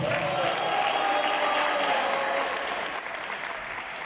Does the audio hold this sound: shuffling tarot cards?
no